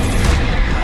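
A burst of the Incendio fire spell in Hogwarts Legacy, a loud, dense, roaring whoosh of flame that fills the whole moment without a break.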